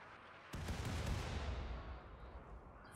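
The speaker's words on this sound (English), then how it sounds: "while we're freaking hunting with our turret, we might as well hunt with our turret" A single sudden blast from a laser turret hunting animals in modded Rimworld, its sharp onset fading into a soft, rumbling decay, fairly faint overall.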